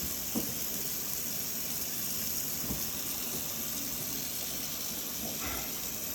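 A tap runs steadily into a sink, a constant hissing rush of water close by with a few faint knocks underneath.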